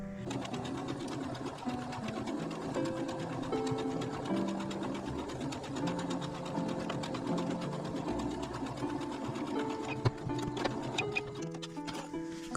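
A sewing machine stitching the bottom seam of a quilted fabric pouch, running in a continuous rapid mechanical whir with steady ticking, close and alone.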